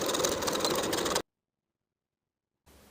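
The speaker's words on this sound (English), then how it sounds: "Then I'll overlap the short ends of the elastic by about 3/8 inch and zigzag in place." A sewing machine zigzag-stitches over the overlapped short ends of elastic for a sleep set, running steadily and close for about a second before cutting to silence and then faint room noise.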